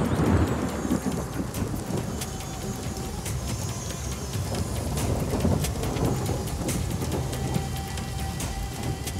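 Heavy rain pours steadily while thunder rumbles low beneath it. The wash of noise is constant and fairly loud, with no voices.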